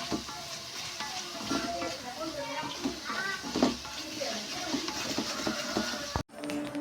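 Onions sautéing and being stirred in a pan for a beef roast, a steady soft sizzle with scraping stirs at irregular intervals, close by, with a voice speaking over it until an abrupt stop.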